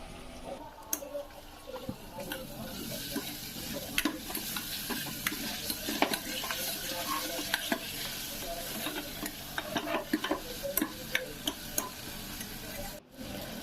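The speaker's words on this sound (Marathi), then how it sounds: "दोन टॉमॅटो चिरून ॲड केले" Chopped tomatoes sizzle in a pan while making chicken curry in a pressure cooker. A continuous frying hiss runs throughout, with frequent small ticks and clinks from stirring.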